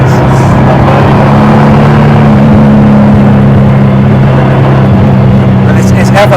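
A Praga Bohema hypercar drones loudly from inside the cabin, a steady engine hum and road roar running throughout, with a voice talking over it.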